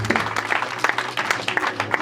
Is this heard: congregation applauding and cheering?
yes